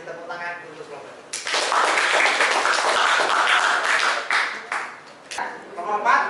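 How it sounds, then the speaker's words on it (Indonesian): Classroom applause for a student group: a short murmur, then a burst of clapping from many hands that lasts about four seconds and thins into scattered claps. "kasih tepuk tangan untuk kelompok 3."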